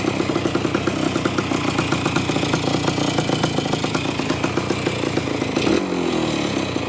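A 1973 ATMX motorcycle engine runs steadily and shifts up through the gears, a loud, close, rasping two-stroke drone with a brief change in pitch near the end and no talking.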